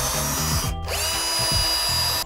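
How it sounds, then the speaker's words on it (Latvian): A power drill whirs steadily at close range for about two seconds with one brief stop and restart in the middle, used while building a roof on a small structure. "Māki urbit? Es teiktu, jā."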